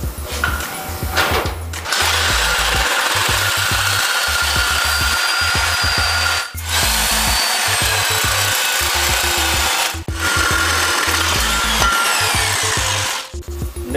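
Power saw cutting through the steel frame neck of a Harley bagger just behind the fork lock plate, a loud continuous grinding rasp sustained nearly the whole time with two brief pauses where the blade stops.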